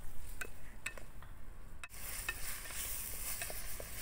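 Kabuli chana pulao fries in a pan, giving a steady sizzle with scattered scraping stirs and light clinks of the utensil, close and continuous.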